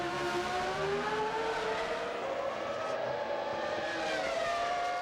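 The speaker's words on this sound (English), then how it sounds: "Crucial pit stop by Ferrari." A 1999 Ferrari Formula 1 car at a pit stop in the Austrian A1-Ring pit lane, its high-pitched engine whine rising and falling as it revs, fairly loud and steady, with no voices.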